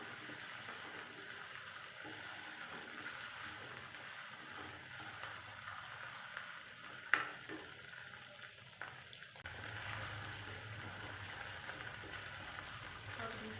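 Bombil (Bombay duck) being cooked in a pan as a bhaji, a faint, steady sizzle and hiss running continuously with small pops and stirring noises.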